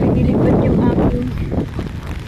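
Strong seaside wind buffets the microphone in a loud, rumbling roar, easing slightly toward the end while someone speaks underneath.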